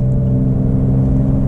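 A Porsche 992 Carrera 4S with PDK gearbox accelerating, its engine giving a loud, close, steady mid-pitched drone with layered harmonic tones over a short burst.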